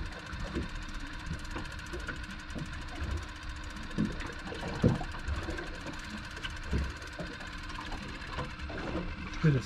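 A fishing reel winds in line while fishing for snapper from a boat, a steady mechanical whirring drone that runs through with faint knocks and scattered background noise.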